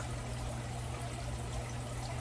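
Milk poured into a measuring cup for a one-pot American goulash skillet, a steady, faint liquid rush lasting a couple of seconds with no talking.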